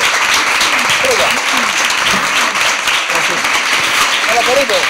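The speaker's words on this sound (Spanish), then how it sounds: "un aplauso muy fuerte para ti" Loud, sustained applause from a studio audience on a Spanish dance television show, a thick continuous roar of clapping with faint voices underneath.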